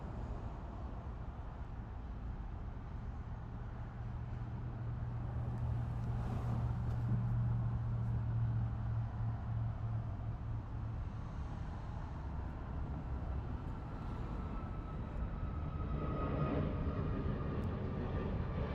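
A Boeing 777 freighter arriving from Seoul at Los Angeles International Airport, heard as a steady, moderately distant jet roar that holds throughout with a low droning hum, no voices present.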